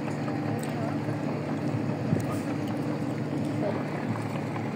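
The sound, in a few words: passenger launch boat approaching the riverbank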